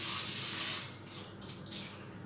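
Rice being washed under a running kitchen tap, a broad hiss of flowing water that eases after the first second into lighter splashing and trickling, close up with no voices.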